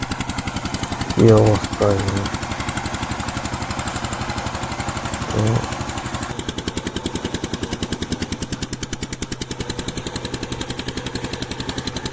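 A power tiller engine chugs in a rapid, steady knocking rhythm while plowing a muddy field, running continuously near and fairly loud, with a voice calling out briefly over it.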